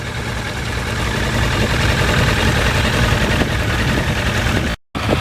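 Motorcycle engines idling in cold weather with a steady low rumble and throb, loud and close, continuing evenly before a brief cutout near the end.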